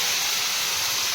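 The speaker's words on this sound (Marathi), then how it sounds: "तेल उडल" Hot oil spatters in a kadhai while paneer bhaji is being cooked at home, giving a steady, close, bright hiss that runs through the whole short moment with no voices.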